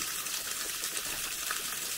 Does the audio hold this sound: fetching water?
yes